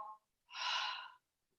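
A single audible inhale taken during a barre exercise, a broad breathy rush lasting under a second, close and fairly loud, preceded by a faint short breath and followed by quiet.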